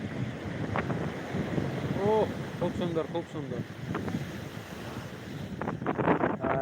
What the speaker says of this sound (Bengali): আবার একটা বিশাল বড় ঢেউ আসছে দেখতে থাকো